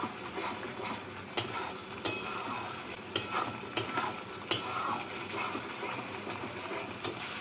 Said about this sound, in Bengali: মশলার কাঁচা গন্ধটা চলে না যাওয়া পর্যন্ত মশলাটাকে কষিয়ে নিচ্ছি